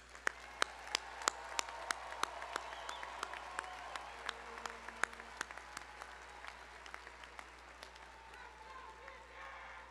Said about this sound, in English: please join me in one last round of applause for all of the students receiving a bachelor's degree